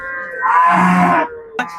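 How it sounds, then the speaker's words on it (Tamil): A single cow lets out a loud, close moo lasting about a second at a cattle market in Melapalayam, Tirunelveli district, with a brief fainter call just after. "மாடு வந்திருக்கு நிறைய அதிகமா வந்திருக்கு"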